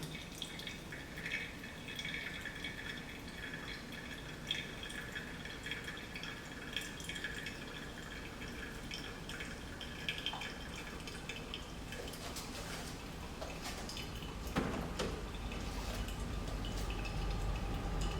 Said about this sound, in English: Pouring is from the start with center and then slowly going around.